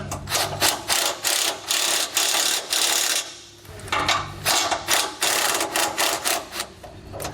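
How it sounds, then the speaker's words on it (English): A ratchet with a 17mm socket snugs up bolts on a steering stabilizer bracket for a 2018 Jayco Greyhawk, giving close, rapid bursts of clicking in repeated strokes with a brief pause midway. "So now we'll take a 17mm socket."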